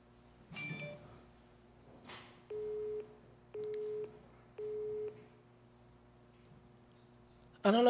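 A phone line gives a busy signal, three evenly spaced steady beeps about a second apart, between scattered clunks and handling noises, and a sudden loud burst at the end.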